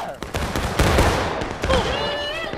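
Gunfire volley in a multiplayer video game, a burst of overlapping shots and crackling reports over several seconds, with voices of players calling out amid the firing.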